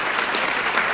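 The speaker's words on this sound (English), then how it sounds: "please keep that applause going" Audience applause at a Seattle civic event welcoming the mayor to the stage, a dense, steady clatter of many clapping hands filling the whole moment at even loudness.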